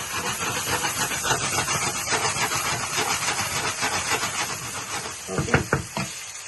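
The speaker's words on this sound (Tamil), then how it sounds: "இதை போட்டு தாளிக்கிறீங்க." Hot oil hisses and sizzles steadily as cumin seeds and curry leaves fry for tempering, then a few sharp pops and crackles burst near the end.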